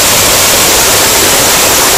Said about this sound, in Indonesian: Tampaknya kita sampai di sini air terjun kedua sebelum tengah hari.